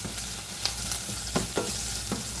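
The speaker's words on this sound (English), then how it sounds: "We want the onions to saute real nice." Onions sautéing in a pan, a close, even sizzle that holds steady, broken by a few brief stirring scrapes, with no voice.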